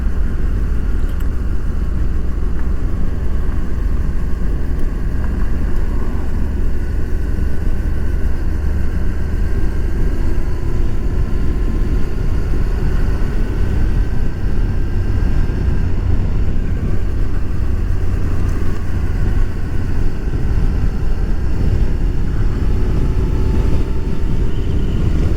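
Honda NC750XA motorcycle on the road, a steady, loud engine drone mixed with wind rumble and continuing unbroken for about twenty-five seconds, with no talk.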